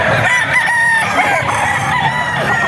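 A rooster crows at the Bocaue pet market among other chickens, loud and close, a drawn-out strained crow over clucking and busy background noise.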